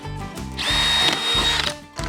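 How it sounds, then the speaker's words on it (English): A power drill whirs as it bores holes in a plastic tub, with two short bursts followed by a longer high-pitched run, close and loud, then a brief pause before spinning up again. "Drill some holes."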